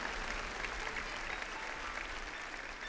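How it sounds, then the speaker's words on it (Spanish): A church congregation applauds together, a continuous broad patter of clapping heard faintly and at a distance, steady throughout with no voices. "Damos un aplauso a Dios por esa definición."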